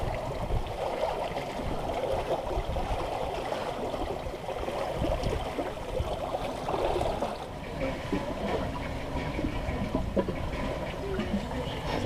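A steady wash of water rushing past a moving sailboat hull at sea between Corsica and Sardinia, in about 14 knots of wind close-hauled, with wind noise and faint splashes throughout.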